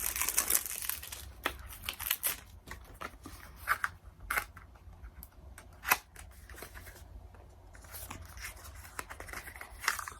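Plastic packaging crinkles and crackles in irregular bursts, close by, with brief quiet gaps between handling noises.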